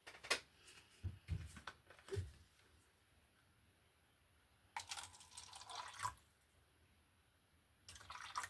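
Water trickles and splashes briefly in a few short bursts at close range, with quiet gaps in between.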